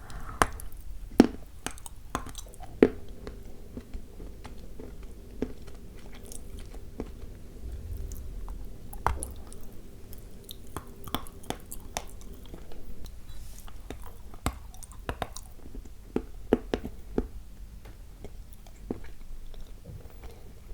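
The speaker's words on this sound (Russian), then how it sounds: "И вот от такого тоненького кусочка хорошо откусывается, от толстого уже сложно." Sticky Bashkir candy bitten off a thin piece and chewed right at the microphone, giving soft tacky crunches and irregular biting clicks over a quiet background with no talking.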